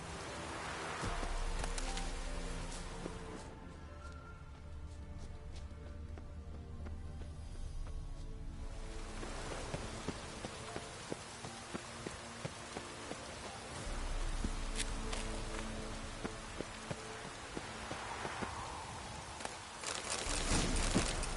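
Rain pours steadily in the video game The Witcher 3, a dense hiss of falling water with patters on surfaces, swelling and easing across the stretch with occasional footsteps.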